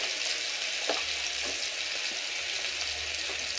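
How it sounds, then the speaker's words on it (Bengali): Tomato frying in oil while being stirred, a steady close hiss of sizzling with a few faint scrapes from the stirring underneath. "টমেটোটা কাঁচা গন্ধ যাওয়া পর্যন্ত তেলে একটু ভালো করে নেড়ে নিতে হবে"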